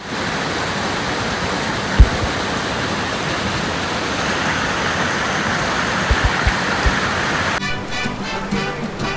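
Water of the Kurli waterfall in the Sahyadri hills of Konkan pours over rocks as a loud, constant roar, with a few soft knocks near the start and later.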